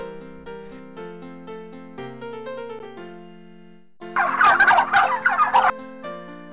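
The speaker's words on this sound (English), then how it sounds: "Turkey." A turkey gobbles loudly in a rapid burst partway through, standing out over a steady musical backdrop of sustained tones.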